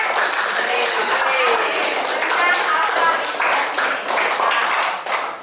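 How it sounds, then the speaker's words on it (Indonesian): A classroom of students claps for a classmate's answer, a steady wash of hand claps carrying through the whole stretch, with voices and a few higher calls mixed in. "tepuk tangan atas jawaban dari Mata."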